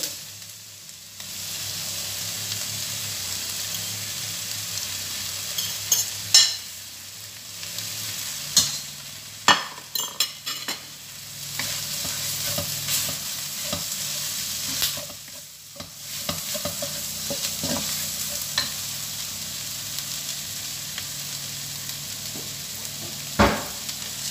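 Chopped onion sizzles steadily in a hot pan while a spatula scrapes and stirs it, with intermittent clacks and taps over the continuous frying hiss, close up, with no talking.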